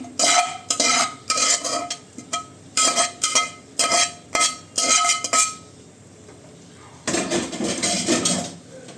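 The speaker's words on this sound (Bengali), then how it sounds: "তারপর ভাজা আলুগুলো দিয়ে দিচ্ছি।" Fried potatoes are added to a metal pot of chicken biryani, a spoon scraping and stirring in quick repeated strokes, with clinks and soft scraping, then a pause before more stirring.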